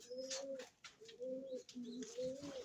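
Pigeons coo softly and repeatedly in low, rolling phrases in a pigeon loft, with faint chirps and rustling nearby.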